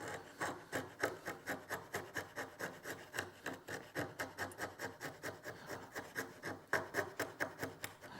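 A blunt chisel scraping and shaving hardwood in steady, rhythmic strokes, about two per second, close and clear, with no talking.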